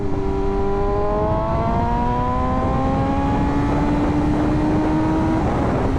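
A new motorcycle engine revs steadily upward toward its rev limiter, a continuous loud rising whine with climbing harmonics over rough engine roar, holding near the top before easing.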